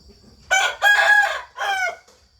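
A Burmese fighting rooster crows nearby on a farm, one loud, strained call broken into several bursts that trail off at the end.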